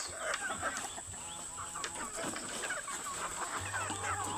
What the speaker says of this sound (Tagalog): Magpakain na tayo ng manok.